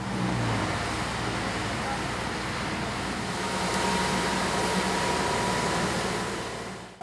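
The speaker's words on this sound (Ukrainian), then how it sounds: "Це нова прибиральна машина." A new street cleaning machine driven by a tractor operator works along a city street in Khmelnytskyi, giving a steady, moderately distant mechanical drone with road traffic noise for about seven seconds.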